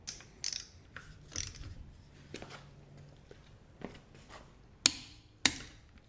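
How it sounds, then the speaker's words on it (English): Torque wrench on the lug nuts of a 2024-or-later Kia EV9, set to 94 foot-pounds, giving sharp, separate mechanical clicks and clunks at an uneven pace, with two crisp loud snaps near the end and no talking. "Go slow until it clicks, then back off immediately. Never push through the click."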